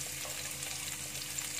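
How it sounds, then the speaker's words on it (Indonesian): Shallots stir-fry in a pan with a steady, moderate sizzle and a faint hiss, close and continuous over a short span, with a low hum beneath. "Bawang merah kita masukin, aduk-aduk sebentar."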